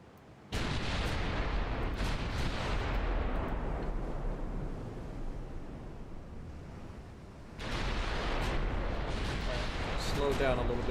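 Naval gunfire in a warship strategy video game, booming impacts and long rumbling roars that swell, fade and return, with a voice talking at times.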